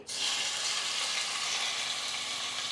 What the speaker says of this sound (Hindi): हमने 2 टेबलस्पून ऑयल प्रेशर कुकर में गर्म किया, उसमें हम मटन डाल देंगे।